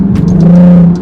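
A 2020 Jeep Grand with a V6, an MMX throttle body and a K&N cold air intake accelerates hard in a short, loud, close-up burst of rising engine roar.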